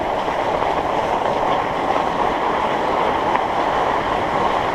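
River rapids rush in a steady, loud, broadband roar of churning water, continuous and close with no voices.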